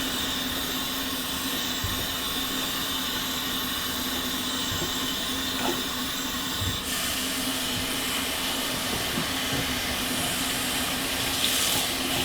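Dyed fabric is rinsed under a steady stream of running tap water that hisses continuously, with a few faint knocks and handling sounds.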